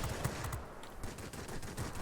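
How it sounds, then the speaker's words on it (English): A 37mm aircraft cannon firing in the combat flight game World of Warplanes: rapid, evenly spaced heavy thuds in bursts over a continuous engine drone, loud and close. "the 37mm cannon will actually be able to hit"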